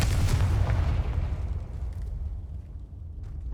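A booming fire-spell blast from the Confringo charm in Hogwarts Legacy: a loud explosive burst at the start, then a long rumbling decay that fades over a few seconds.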